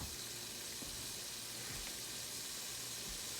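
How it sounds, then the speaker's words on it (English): Chicken and pumpkin flower sauteing in a pan, a steady, soft sizzling hiss running evenly throughout with no talking. "I'm gonna let this saute for another 4 minutes"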